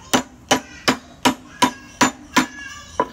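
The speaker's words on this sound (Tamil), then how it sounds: "இந்த கோனை உள்ளே போட்டுட்டு ஏதாவது பெர்ஃபெக்டாக இல்லாத இடத்துல நம்ம தட்டினோம்னா" A metal cone for a Rajdoot motorcycle silencer is struck by a hammer in a steady rhythm, eight sharp ringing blows spaced evenly and close up, with no talking.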